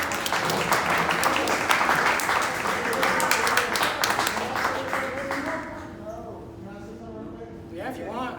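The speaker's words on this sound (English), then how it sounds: "oh, you want to clap again?" Audience clapping at a talk, a dense burst of many hands lasting several seconds before tapering off, with voices rising over the fading applause near the end.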